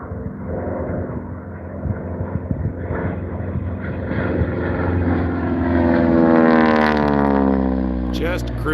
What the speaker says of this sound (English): Here comes the number 2 aircraft.